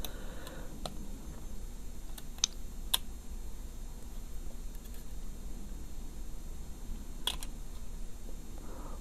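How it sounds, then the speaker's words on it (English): A plastic piece being pried out of an Invicta Trinite 23191 watch with a small tool during a battery change, heard as a few sparse, faint clicks and ticks spread over a quiet background. "I'm just going to find an edge and slowly start pulling out the plastic piece."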